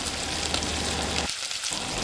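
Mutton boti sautéing in a pan, a short, loud burst of close sizzling that dips briefly and then returns, with no speech.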